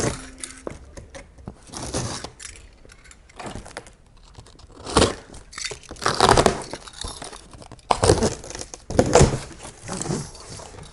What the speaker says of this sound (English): we're going to cut the tape that's running down the length of the box